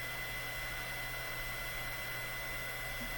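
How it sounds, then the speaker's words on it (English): Heat gun blowing steadily while shrinking heat shrink tubing, a constant close airy whoosh with an even hum and no talk. "I would just take this on our heat shrink, on our heat gun here, and you can see it's tightening down around it."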